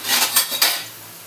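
A utensil scrapes and stirs onions frying in a pan on medium flame, three quick close scraping strokes followed by a soft sizzle.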